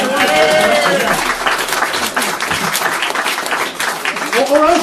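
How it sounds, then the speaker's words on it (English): An audience at a Democracy Roadshow political talk in Merthyr Tydfil gives a loud round of applause, dense continuous clapping with voices and cheers mixed in, close and full throughout. "Let's have a round of applause."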